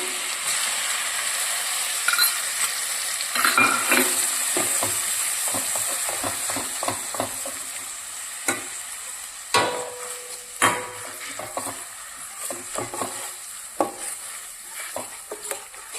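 Onion paste hits a hot pan and fries with a steady sizzle while a spoon stirs it, scraping and clinking against the metal in irregular bursts, close and fairly quiet.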